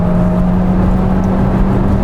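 Hyundai Tucson hybrid engine heard from inside the cabin while driving, a steady low hum and whir with road noise throughout, constant and fairly loud, with no voices.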